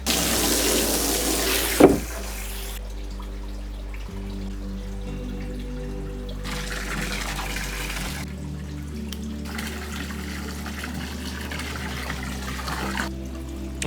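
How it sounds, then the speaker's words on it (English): A garden hose runs steadily into an indoor koi pond, giving a continuous rushing, trickling stream of water. The flow shifts in tone a few times and stays close and even throughout, with no voices. "Definitely not filling this one with buckets, so let's go grab the garden hose."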